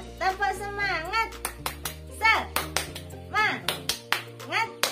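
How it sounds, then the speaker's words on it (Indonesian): Schoolchildren in a combined-class lesson clap out the rhythmic 'tepuk semangat' spirit clap, sharp group claps in a quick patterned beat mixed with their chanting voices and a teacher's speech. "kita tingkatkan semangat kita dengan tepuk semangat"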